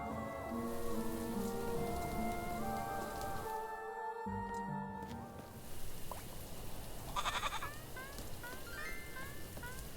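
Steady rain patters throughout in the game Little Goody Two Shoes, mixed with background game music and a brief dropout in the middle, with some chirping tones near the end.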